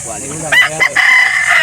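Gamecock rooster at a livestock market in Calauan, Laguna, giving one loud, close crow that ends in a long held, strained note.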